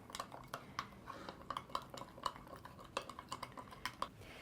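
Cubed butternut squash stirred with a utensil through melted butter, oil, turmeric, cracked pepper, nutmeg and cinnamon in a dish, giving quick irregular clinks and scrapes that are close and fairly quiet, with no talking.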